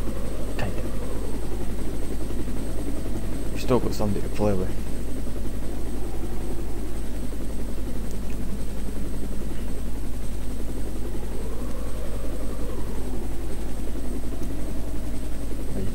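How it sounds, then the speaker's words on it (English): A helicopter in the Resident Evil Director's Cut video game drones steadily throughout, a loud continuous rotor and engine hum, while a player talks over it. "Yay, that chopper! Got to that chopper!"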